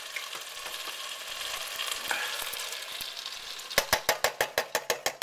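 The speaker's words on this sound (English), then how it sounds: "Okay, now we're going to dump in our tomatoes." Tomatoes go into a sizzling pot of chili, and a steady frying hiss fills the first part. Then comes a run of sharp, rhythmic scraping knocks from stirring, close and loud.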